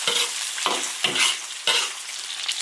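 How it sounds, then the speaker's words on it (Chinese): Cured pork is stir-fried in an iron wok: bursts of loud sizzling rise with each stir and toss, four distinct surges in quick succession, with no voices. "加腊肉煸炒。 腊肉炒香，炒出油。"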